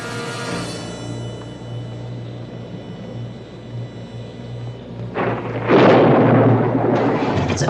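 A thunderstorm rolls on with a steady low rumble, then a loud crash of thunder swells up near the end and keeps booming, with no voices over it.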